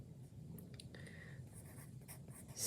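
A stick of charcoal scratches labels onto paper, faint dry scraping strokes in short bursts at close range, with no voices.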